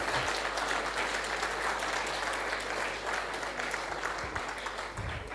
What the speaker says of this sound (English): Please, with a round of a resounding applause